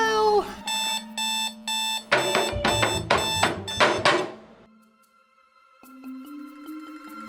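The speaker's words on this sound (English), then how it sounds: "first my alarm goes off" Alarm clock ringing close by in rapid repeated electronic bursts, then louder continuous ringing that cuts off and gives way to faint tonal sounds.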